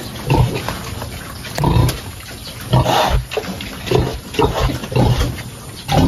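Pigs on a farm, young piglets being chosen as breeding sows and ear-tagged, grunting and squealing close by in repeated bursts with shuffling and background noise.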